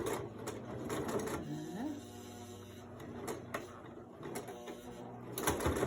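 A sewing machine runs in short bursts, back-stitching and reversing over a cloth face mask up close, with a voice talking over the whirring motor.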